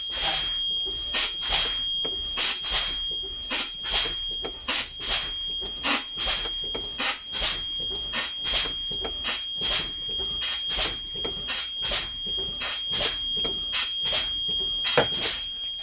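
A bus low air pressure warning alarm sounds as a steady, rapid series of loud electronic beeps repeating without pause, piercing and close.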